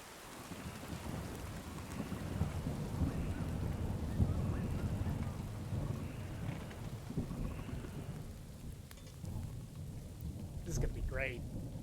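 Rain and thunder in the video game Kingdom Come Deliverance 2: a steady wash of rainfall with low rolling thunder rumbles, loud and constant, while a voice speaks briefly over it.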